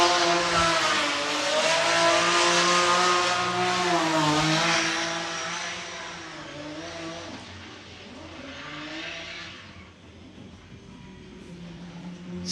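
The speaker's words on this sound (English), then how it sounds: "Sergios Gregoriou there with his fill and go BMW car" A BMW drift car at a Driftkings Saturday practice session, its engine revving loudly with rising and falling pitch as it slides, then fading into the distance.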